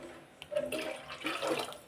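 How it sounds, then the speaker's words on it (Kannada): Water from a glass pours into a pot of cooking rice, a short splashing gush that comes in two close bursts, heard near with no talking. "ಸಾಕಷ್ಟು ನೀರು ಹಾಕ್ಲ. ಇನ್ನೊಂದು ಲೋಟ ಹಾಕು."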